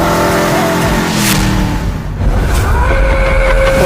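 A car in a Bhojpuri movie scene roars loudly up close with a revving engine and a rushing skid-like sweep, a brief dip midway, then the engine noise surges again.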